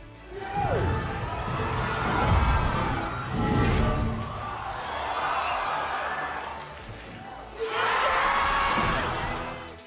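A movie theater crowd watching Avengers: Endgame erupts in cheers and whoops in several surging waves, loud and roomy, with shouts and screams rising over a dense crowd roar.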